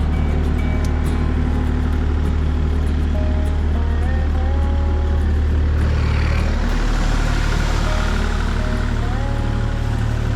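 Kubota KX040 mini-excavator running loudly and steadily at close range, its engine drone holding through the cab rotation with a slight shift in tone midway, no talk.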